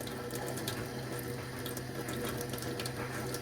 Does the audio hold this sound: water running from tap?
yes